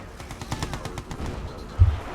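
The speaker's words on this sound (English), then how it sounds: "Gatling cannons are pretty impressive weapons." Gatling cannons in the game Red Alert 2: Yuri's Revenge fire in a steady, rapid rattle of repeated shots across the whole stretch, ending in a louder burst near the end.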